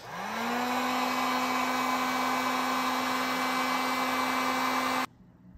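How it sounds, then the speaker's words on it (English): A heat gun blows steadily to dry a freshly cleaned carburetor part for a 1972 Triumph GT6 in a cold garage. It spins up quickly into a loud, even whirring roar with a constant tone, runs alone for about five seconds, then cuts off abruptly. "So I brought a heat gun and I'm gonna dry it."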